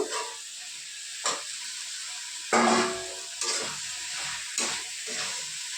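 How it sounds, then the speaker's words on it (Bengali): Potato pieces and broccoli frying in hot oil, a continuous close sizzle with several sharp bursts as pieces are stirred or added, no voices. "তেল ছেড়ে দিয়েছে, এর মধ্যে আলুগুলো দিয়ে দিয়েছি, এই ব্রকলিটা দিয়ে দেবো"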